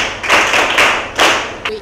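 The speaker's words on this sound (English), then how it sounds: "Please clap for her." A classroom of pupils claps for a classmate during a computer lesson, a short burst of loud, close, dense clapping that fades and surges again.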